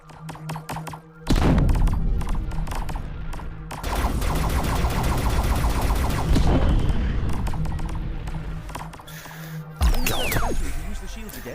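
Gunfire in the VR game Ziggy's Cosmic Adventures: heavy, thudding shots and booms fill most of the stretch in a loud, dense barrage, with a voice talking beneath it and a final burst near the end.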